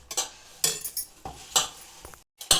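Wheat flour dough with salt and oil is mixed in a bowl for a snack, with a spoon scraping and clinking against the sides in short irregular strokes and a brief pause partway through.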